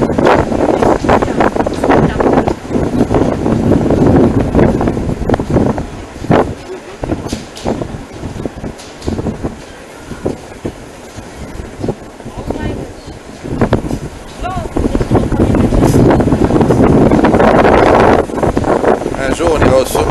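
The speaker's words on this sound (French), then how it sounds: "Il y a du vent, hein?" Strong wind buffets the microphone in loud gusts while people talk over it, on the Eiffel Tower in Paris.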